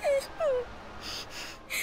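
A dog whimpers in the video game Dragon Quest XI, giving two short, high, falling whines in quick succession. Fainter hissing noises follow in the background.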